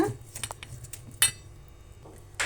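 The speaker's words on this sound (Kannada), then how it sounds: "ಈಗ ಸ್ಪೂನಿಂದ ಒಗ್ಗರಣೆ ನೀಟಾಗಿ ಮಿಕ್ಸ್ ಮಾಡ್ಕೊಂಬಿಡೋಣ" A spoon stirs a tempering into curry leaf chutney in a pan, giving a few quiet, sharp scrapes and metallic clinks at irregular moments. Short gaps of near silence separate them, and no one speaks.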